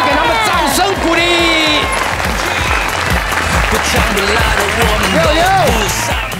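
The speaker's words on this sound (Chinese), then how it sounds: "谢谢我们所有优秀艺人的精彩表演，再次给他们掌声鼓励" A studio audience on a Taiwanese variety show applauds the performers, sustained loud clapping with some cheering while a host's voice carries on over the top.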